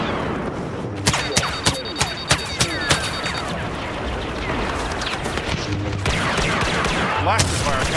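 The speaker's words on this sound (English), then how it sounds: "Blaster fire kinda hurts." Blaster fire from a Star Wars Battlefront battle: a run of sharp, loud shots in quick succession, then more bursts further off in a constant noisy din of combat, with voices speaking over it.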